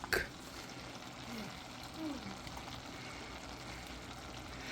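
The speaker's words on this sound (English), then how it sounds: "We are just mixing everything into like the meat" Ground meat and minced garlic fry in a pan for a keto lasagna, a faint steady sizzle with soft stirring scrapes and a brief clatter at the start.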